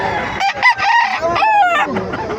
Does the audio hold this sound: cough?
no